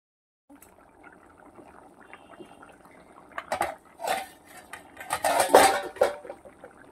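A lid is set down onto a pot of simmering potato and fish curry on the stove, giving a few loud metallic clanks and rattles over a soft bubbling background, with no talking.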